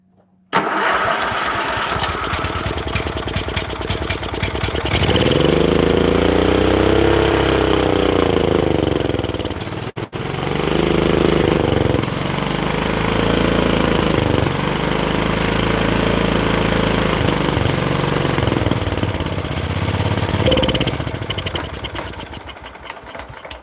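A 1973 Harley-Davidson Super Glide motorcycle engine, with the choke on after carburetor work, starts up and runs loud and close, its revs swelling and dipping in repeated surges before briefly cutting out and catching again.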